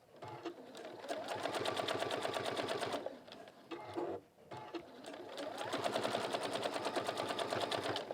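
A sewing machine top stitches a hat in long, steady bursts of fast needle clatter, stopping briefly a couple of times before running on, close and clear with no talk.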